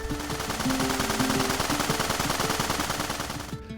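Rapid automatic machine gun fire in an RPG Maker video game, a dense continuous burst of repeated shots lasting a few seconds with no speech.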